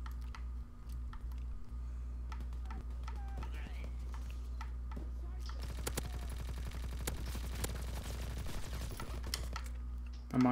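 Call of Duty WW2 gunfire rattles in quick bursts of clustered shots over a steady low hum, growing denser in the second half with keyboard-like clicks scattered throughout.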